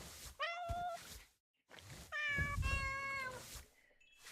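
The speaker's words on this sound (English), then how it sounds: "Should I pet the cat?" A cat in a video game meows twice, clear tonal mews separated by a short silence, the second one longer and drawn out, fairly close and with no talk over it.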